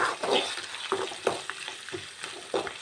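Curry leaves sizzle in hot oil in a pan for a pepper chicken dish, and a spoon scrapes and stirs them in a steady run of crackles with soft clinks, close and continuous.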